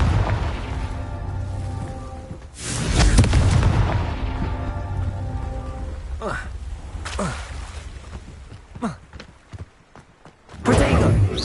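Confringo blasting spells going off in Hogwarts Legacy: several heavy booming explosions with rumbling decays, separated by sharper bursts and pops, with a loud final blast near the end.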